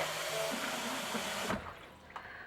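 Tap water pouring into a pot of beets, a loud steady rushing hiss that cuts off abruptly, followed by a couple of faint clinks.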